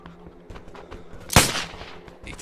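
A single loud gunshot from a weapon in the survival video game Survive the Nights, a sharp burst partway through amid quiet game ambience and faint background noise.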